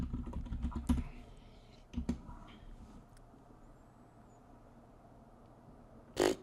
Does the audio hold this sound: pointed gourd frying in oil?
no